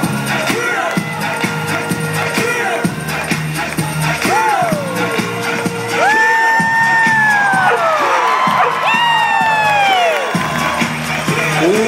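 A loud crowd at a Superdogs dog show cheers and whoops for a leaping Ibizan hound, sustained shouting and excited children's voices swelling over music and a commentator throughout.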